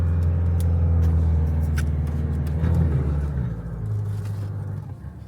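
An Isuzu 4x4 climbs a hill on a practice track in first gear, its engine a steady low drone that eases off partway through before settling again, with no talk.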